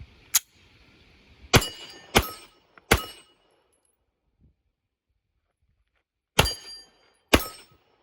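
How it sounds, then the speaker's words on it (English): Sig P320 pistol firing six sharp, loud gunshots at uneven intervals, each a sudden crack that decays quickly, with silence between shots. "Let's shoot some rounds."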